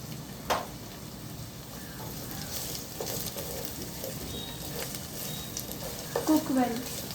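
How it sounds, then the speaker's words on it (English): Ginger and chili fry in an oily pan with a low continuous sizzle, broken by occasional stirring clatters and a louder burst of spoon-on-pan scraping near the end; no talking. "Now we're going to put the ginger inside the pan."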